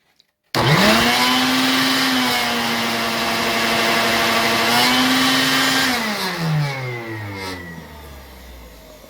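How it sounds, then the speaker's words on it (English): A workshop dust collector starts abruptly and runs loud and steady, drawing dust up through its port into a collection bag, then winds down with a falling whine near the end; no one speaks. "The dust comes up through the port and out through the bag, and the bag collects all the dust."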